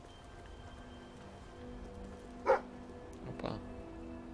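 A dog barks indoors, one sharp bark followed about a second later by a softer, rougher burst, both fairly quiet over a steady low background hum.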